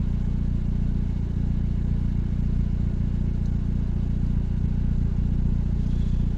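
A Honda Civic with an R18 engine and a new header and catalytic converter idles steadily, a low, even rumble close by with no talk.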